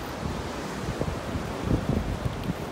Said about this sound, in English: Kind of rough and windy.